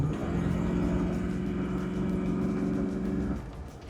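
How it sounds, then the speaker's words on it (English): A Land Rover Discovery II with a 5.3L engine accelerates on kick-down, heard from inside as a steady, loud engine drone that drops off sharply near the end. "let's see if I can give it a little kick down"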